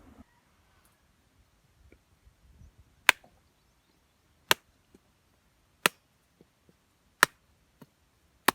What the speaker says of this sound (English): All we're trying to do here is get a nice even crack all the way around the coconut, so we can open it up,